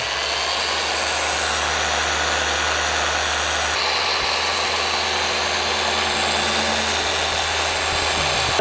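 A Rupes Bigfoot 15 Mark V orbital polisher runs steadily on speed setting 1, giving a constant close mechanical drone with a low hum that holds unchanged throughout, with no talking.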